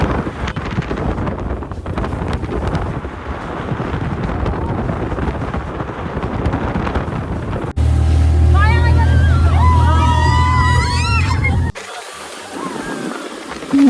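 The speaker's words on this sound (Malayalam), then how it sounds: "അപ്പോൾ നമ്മൾ സ്പീഡ് ബോട്ടിൽ കയറി" Wind-buffeted roar of a speedboat on the Alappuzha backwaters, loud and continuous for most of the run, then interrupted by an overlaid music section and a quieter stretch near the end.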